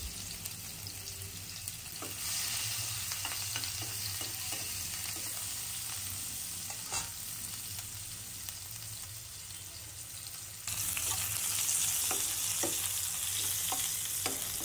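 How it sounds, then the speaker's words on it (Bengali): Onions fry in oil in a wok, giving a steady close sizzle with scattered crackles and a few utensil scrapes throughout, with no talk. "পেঁয়াজগুলি ভেজে নিব।"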